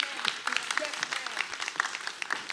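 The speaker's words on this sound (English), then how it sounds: "Give her another round of applause." Applause from a conference audience at a World Day of Social Justice event: dense, steady clapping from many hands filling the hall for a few seconds, with a voice speaking faintly underneath.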